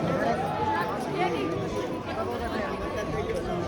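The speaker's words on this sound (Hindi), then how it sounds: "कितनी भीड़ हो रही है" A dense crowd of devotees at Ardhkuwari on the Vaishno Devi pilgrimage route, a steady wash of overlapping chatter and murmuring voices with scattered footsteps, close and continuous throughout.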